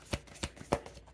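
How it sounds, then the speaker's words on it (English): An oracle card deck is shuffled and a card drawn, heard as three crisp papery riffles spaced a fraction of a second apart, close and fairly quiet. "I'm gonna pull out Karma card."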